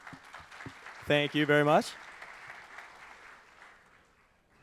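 Audience applause at a tech center fall summit, a soft spread of clapping that swells briefly and fades out, with a voice speaking over it near the start.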